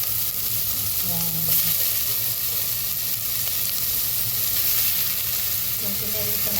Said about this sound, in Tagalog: nag-oven tayo ng ating onion, garlic. Lalagyan natin yung beef.